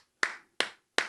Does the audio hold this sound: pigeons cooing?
no